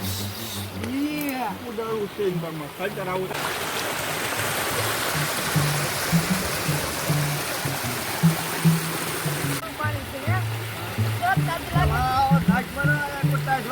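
Water rushing and splashing steadily in the background while people talk and call out over it, the flow briefly louder in the middle stretch.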